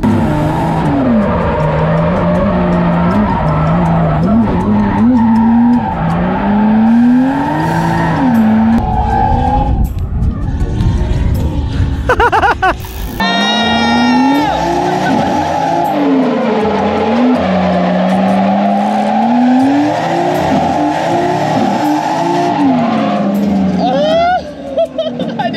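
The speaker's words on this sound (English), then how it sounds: "Alright, let's try to drift the track." A car drifting around a track, loud engine revving up and down in waves with tires skidding and squealing, talk and shouting heard over the engine throughout.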